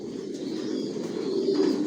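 Racing pigeons in a loft coo together in a low, continuous murmur, fairly close and steady throughout, with no one talking.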